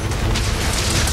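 A loud, dense explosion blast fills the moment in the video game Monster Hunter Rise: Sunbreak, a continuous booming rumble with crackling debris throughout.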